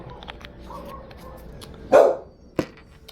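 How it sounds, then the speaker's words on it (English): A small pet dog gives two sharp barks, the first louder and a little longer, the second short and clipped, heard fairly close in a quiet indoor room with faint background noise. "that's our little doggy barking"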